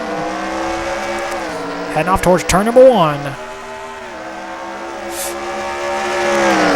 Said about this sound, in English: Pace car pulls in. Simon Fox puts the hammer down.